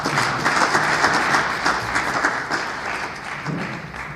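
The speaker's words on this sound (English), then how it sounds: "Please, a round of applause for her." A room full of people at a police school visit in Nigeria applauds steadily, a dense wash of clapping that fades slightly toward the end.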